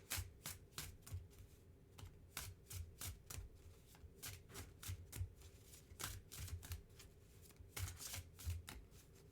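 Tarot cards shuffled by hand, a quiet rapid series of crisp riffling and flicking bursts repeating in quick, irregular rhythm with no talk.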